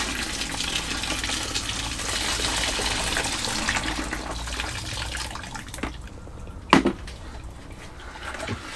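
Boiling water from a kettle pours into a container of semolina for homemade wine, a steady splashing stream for several seconds that thins out, followed by a couple of sharp knocks.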